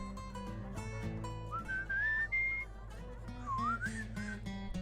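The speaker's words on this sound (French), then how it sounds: "Vas-y, je siffle." A person whistles a wandering melody over a dense musical backing, the tune rising and sliding through long held notes before dipping and climbing again.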